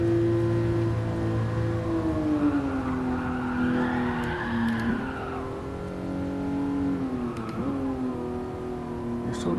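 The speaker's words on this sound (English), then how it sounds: "It's so easy to do a lift oversteer in this car." In the GT Sport racing game, a 1967 Toyota 2000GT engine drones steadily while the tires skid and squeal through a lift-oversteer slide, the pitch dipping and rising as the car slides, moderately loud and without speech.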